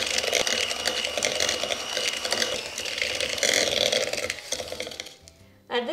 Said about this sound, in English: We will start with the mixer here